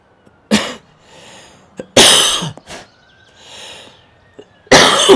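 A person coughs several times in sharp, loud bursts with short breathy pauses between them, close to the microphone, while playing a golf video game.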